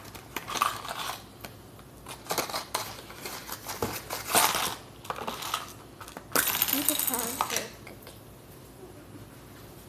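Small plastic Lego pieces clatter as they fall and scatter across a hard surface in several short bursts, with quieter rattles between and people talking nearby.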